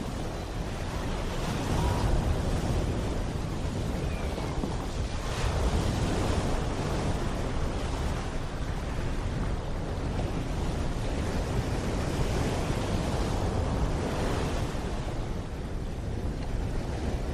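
Ocean waves roll and surge along the rugged British Columbia coast, a loud, continuous wash of surf with swelling crests every few seconds and strong wind buffeting throughout, no voices.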